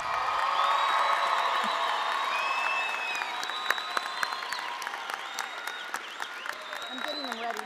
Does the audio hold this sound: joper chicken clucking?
no